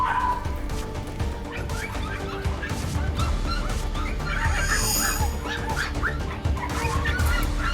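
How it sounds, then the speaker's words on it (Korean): Puppies at a commercial dog breeding mill barking and yipping in a dense, overlapping chorus, with occasional whimpers and some fowl-like calls in a loud, continuous clamor throughout. "강아지거든요"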